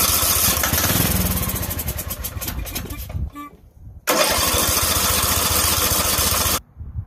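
A small weed eater engine sputtering and then catching after a carburetor rebuild, revving loudly and raggedly before cutting out, then restarting into a steady high-pitched roar that stops abruptly near the end.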